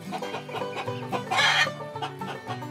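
Chickens clucking on a farm, a short run of clucks and calls with one louder burst near the middle, set against a steady background of music.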